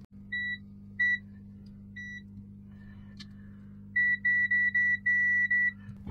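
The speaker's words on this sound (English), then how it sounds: "Multimeter in continuity." Multimeter set to continuity mode gives short electronic beeps, a few scattered single tones and then a quick run of repeated beeps, clear and close over a faint steady hum.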